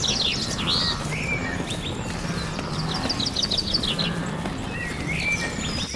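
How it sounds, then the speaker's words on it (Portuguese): Small birds chirp and twitter in repeated bright bursts over a steady rush of wind through dry grass on the Savuti savanna, a continuous outdoor bed with no voices. "apenas sons mais suaves, o vento sussurrando na grama seca, o chiurear de pequenos pássaros"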